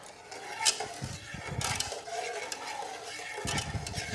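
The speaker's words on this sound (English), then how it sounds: "Just keep stirring, Miss Peggy." Food being stirred in a pot during a cooking show, with scraping and clinking of a utensil against cookware and a soft sizzle underneath, continuous and fairly close at moderate loudness.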